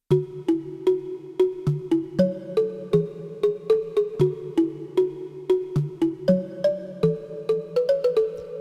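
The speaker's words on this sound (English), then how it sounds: "So I made a kalimba sound using one of our wavetables." Plucked, bell-like synthetic kalimba tones made from a wavetable in the Pigments 3 synthesizer, in a bouncy repeating melody, each note striking sharply then decaying quickly, clean and close with nothing else.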